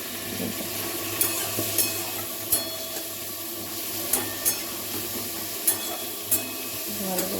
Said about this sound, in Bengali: ভাজা হোক পেঁয়াজটা